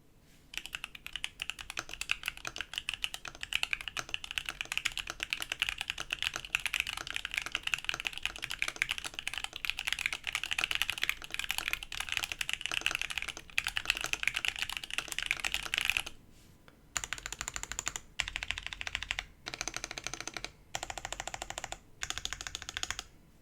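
Stock Gateron Box Ink V2 mechanical keyboard switches typed on steadily and clackily for about sixteen seconds, then a brief pause and a few separated bursts of close, crisp keystrokes, with no talking.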